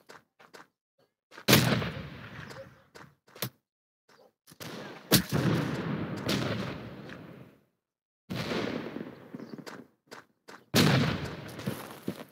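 Cannon fire rings out in Holdfast: Nation At War, several loud booming blasts separated by silent gaps, each with a sharp onset and a rumbling decay, mixed with sharper gunshot cracks.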